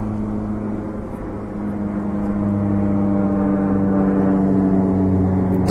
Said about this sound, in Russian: О, самолет летит.